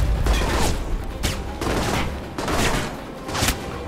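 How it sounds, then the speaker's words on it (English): Grenade blast in the game Alpha Protocol amid combat, heard as a run of heavy booming bursts roughly every second, loud and close, with crackling gunfire-like impacts and no speech. "That's a grenade."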